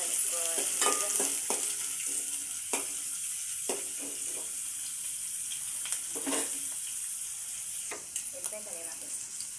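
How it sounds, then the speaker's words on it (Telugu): Onions and green chillies stir-fried in hot oil while making veg Manchurian: a steady close sizzle runs throughout, broken by repeated sharp scraping clicks of a spatula tossing the pieces around the pan. "ఉల్లిగడ్డలు, మిరపకాయలు వేసి కలుపుకోవాలి."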